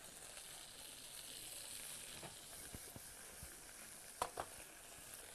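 Morel mushrooms hiss and sizzle softly in a hot pan after caramelization, a steady faint frying crackle with a few brief sharper pops near the end.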